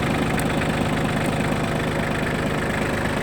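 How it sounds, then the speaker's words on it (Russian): Shibaura D195 mini tractor diesel engine idling smoothly and evenly, a steady continuous mid-low rumble with no voices over it. "И можно запускать двигатель. Запускается легко и непринужденно. Работает мягко и ровно тоже."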